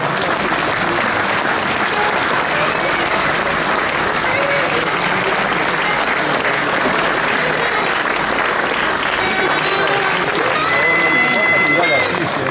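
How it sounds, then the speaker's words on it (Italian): A large funeral crowd gives a long, sustained round of applause, dense and steady throughout, with faint voices and calls scattered within it. "un lungo applauso lo ha poi accompagnato"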